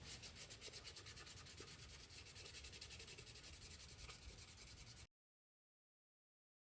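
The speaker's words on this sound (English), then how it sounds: "One more quick sanding at 220," Sanding an epoxy and wood serving board at 220 grit, a steady, close, continuous abrasive rubbing with a fast regular pulse that stops abruptly before the end.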